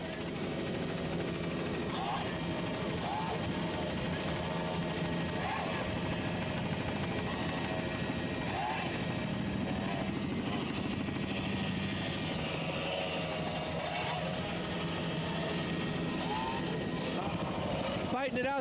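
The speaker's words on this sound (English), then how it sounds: "Listen to those engines scream." Screaming high-revving engines of Grand Prix offshore powerboats, including Franz Kneissl's racer, racing at Key West, Florida in 1983, a loud continuous roar with shifting pitch under an announcer's steady commentary.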